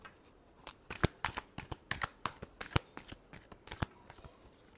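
Tarot cards shuffled in a rapid burst of crisp, papery riffles and slaps, a dozen or so quick strokes in an irregular rhythm, close and moderately loud with no talking.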